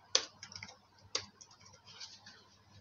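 A computer keyboard typed on during Python desktop programming, a few quiet key clicks and two sharper taps about a second apart, close and faint, with no talking.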